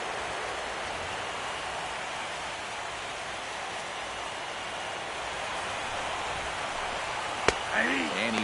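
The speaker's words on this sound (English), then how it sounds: "That rain is really coming down now." Heavy rain pours steadily in MLB The Show 16 as a dense, even hiss throughout, with a sharp crack near the end followed by rising crowd murmur.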